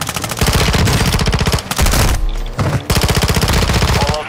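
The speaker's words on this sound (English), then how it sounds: "You are taking effective fire." Sustained automatic gunfire in a tactical multiplayer shooter game, loud and close, with rapid bursts separated by brief pauses.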